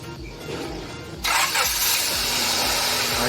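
A Honda Civic VTEC engine, balky after an engine wash, cranks with rhythmic low pulses, then catches and runs with a louder, steady, rough roar close by.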